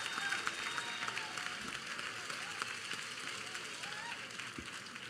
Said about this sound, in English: please signify your approval with applause